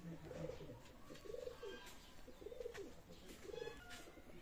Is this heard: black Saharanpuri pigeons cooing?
yes